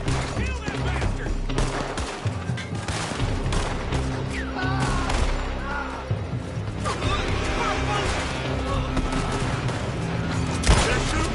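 In Red Dead Redemption 2, a loud, sustained gunfight rattles from a building, with rapid overlapping shots, clattering impacts and intermittent shouting voices throughout.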